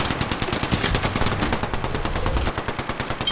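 Rapid bursts of automatic gunfire in a video game, loud and dense, firing continuously with brief gaps near the end.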